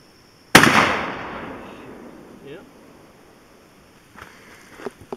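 A single loud rifle shot, .223 or 7.62x39, fired at a cast aluminum housing, cracks sharply and rings out in a long decaying tail, followed by faint small knocks and movement.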